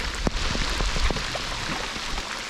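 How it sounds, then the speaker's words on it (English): Steady heavy rain pours down on a river during an early fall canoe trip in Canada, a dense continuous hiss with a few close drops pattering nearby, no talking. "Got a right proper rain coming down now"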